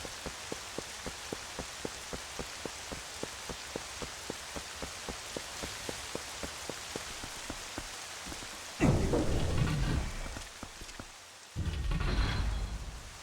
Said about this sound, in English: The ambient sound of the rain, stunning.